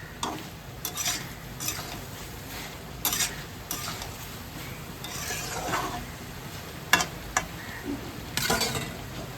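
A vegetable chorchori curry with soybean chunks is stirred in a pan: a quiet, steady sizzle with repeated close scraping and clinking strokes of the spoon at an uneven pace.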